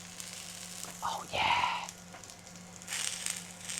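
Banana and egg pancake batter sizzles quietly in a hot pan, a soft steady hiss with brief louder bursts, while a voice speaks briefly over it.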